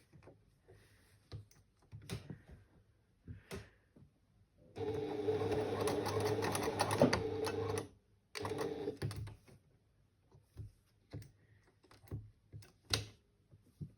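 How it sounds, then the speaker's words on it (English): A sewing machine stitches across fabric to hold cords in place, running in a steady buzzing burst of about three seconds and then a shorter one, with faint handling clicks before and after. "I'm going to secure by stitching across here to secure the cords to the fabric"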